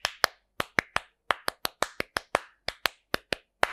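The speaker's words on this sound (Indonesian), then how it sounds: "Nah, itu tepuk pramuka gitu." Scout clap performed by hand: about fifteen crisp, close claps in a quick, syncopated rhythmic pattern with short pauses between groups, loud and dry with no talking.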